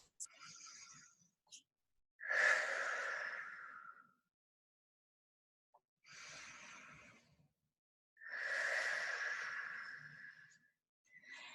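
Two slow, deep breaths are drawn in and let out close to the microphone during a child's pose in a fitness class, each long inhale and exhale separated by quiet pauses.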